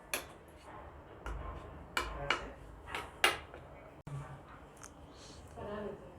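Spoon clinking and scraping against a bowl as cocoa powder and cornflour are stirred together for hot chocolate, a handful of sharp taps and clicks scattered over a few seconds, close, with a soft voice in the background.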